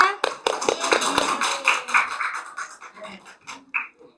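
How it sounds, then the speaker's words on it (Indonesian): Hands clap in a classroom during a micro-teaching session, a burst of sharp, fairly close claps that thins out after a couple of seconds, with voices murmuring underneath. "Nah, tepuk tangannya."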